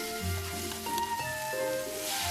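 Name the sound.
onion and paprika stir-frying in a pan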